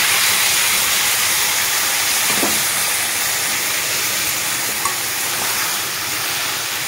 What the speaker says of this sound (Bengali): আলুটা ভালো ভাজা হয়ে গেছে, দিয়ে দেবো মশলা করে রাখা।